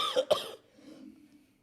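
Two sharp coughs in quick succession are followed by a brief low throat sound, then another cough begins at the end, close and alone.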